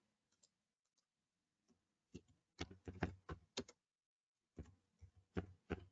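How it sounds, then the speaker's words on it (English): Computer keyboard typing in short clustered bursts of crisp key clicks with pauses between, close but quiet, no talking. "I'm typing on the wrong computer again, Deb."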